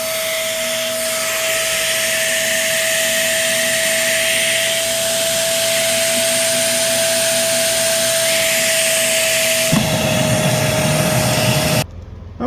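Euro Pro EP601 multi-speed vacuum cleaner running, a loud, steady, close whine with a constant tonal hum that shifts near the end before cutting off abruptly.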